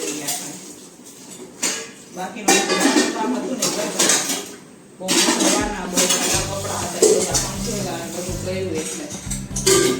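Steel kitchen utensils and pots clinking and being set down in a home kitchen while dal and rice are being cooked, with repeated clattering knocks under intermittent talking.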